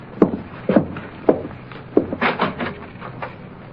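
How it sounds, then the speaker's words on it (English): An apartment door is opened in an old radio crime drama, heard as a handful of close knocks and clunks of the latch and door followed by a brief creaking scrape, with no talking over it. "Now you can open the door."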